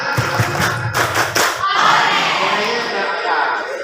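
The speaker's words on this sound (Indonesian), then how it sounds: "Tepuk gembira" Students at an Islamic boarding school clap a short cheerful routine, a few crisp grouped claps at the start followed by a murmur of many voices and lighter handclaps from the crowd.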